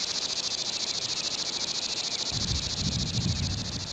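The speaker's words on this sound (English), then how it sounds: "17-year cicada" Periodical 17-year cicadas drone in a dense, continuous pulsing chorus that stays loud throughout, with a low rumble joining partway through.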